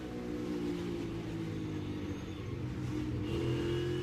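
NASCAR stock cars roar around Watkins Glen, a loud, continuous engine drone that swells slightly near the end.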